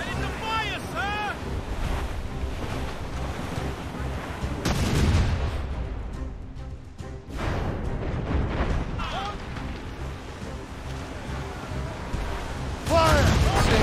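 Ship cannons firing during a naval battle in Assassin's Creed Rogue, booming broadband blasts around five seconds, again near seven and at the end, over constant ocean surf, wind and music, with voices shouting orders.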